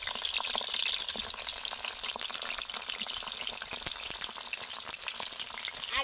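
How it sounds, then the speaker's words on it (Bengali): Salted, turmeric-rubbed eggplant slices frying in hot oil, a loud, dense, continuous sizzle with crackling pops throughout, no voices. "এবার আমি লবণ হলুদ মেশানো বেগুনগুলোকে একে একে তেলের মধ্যে দিয়ে ভেজে নেব।"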